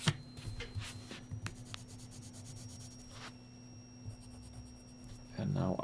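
A graphite pencil shades on paper with soft, scratchy rubbing strokes, quiet and close, under a faint steady hum and occasional light taps.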